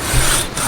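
A hand saw rasps through the wood of a big tree in a state forest, one short, loud, close stroke of gritty scraping with no voices.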